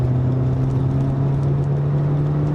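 Car engine with its turbo spooling while pulling in third gear, a steady drone with a strong low hum and a fainter high whine running continuously and up close.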